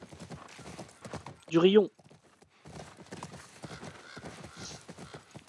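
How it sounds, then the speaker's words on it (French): Horse hooves clip-clop in the video game The Last of Us Part I, a short burst of steps standing out loudly amid quieter game sounds, with someone talking in French before and after. "Purée cheval."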